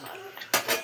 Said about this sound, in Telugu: మూత పెట్టుకోవాలి.